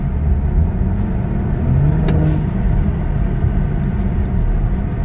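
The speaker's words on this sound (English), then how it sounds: "You can hear it kind of semi-venting when you're under throttle" BMW turbocharged engine under partial throttle, a loud, close, steady rumble with a faint brief hiss of semi-venting turbo bleed midway and no talk.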